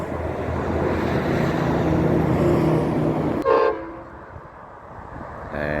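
A steel train's horn blares over heavy rumbling rail noise, then cuts off, leaving a quieter rumble before a brief tonal sound returns near the end.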